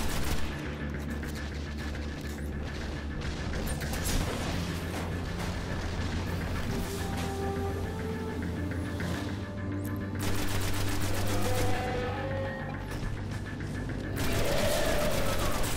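Continuous gunfire during a boss fight on Venus in the shooter game Destiny, with dense rapid shots and explosive bursts layered over steady game background noise the whole time.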